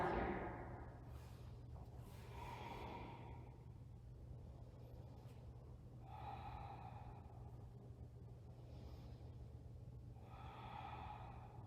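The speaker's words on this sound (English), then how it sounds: "And take about 5 rounds of breath here." Slow, deep breaths taken during a yoga pigeon pose in a strength-building vinyasa flow, several soft inhale-exhale cycles, faint and close, with a low steady hum beneath and no talking.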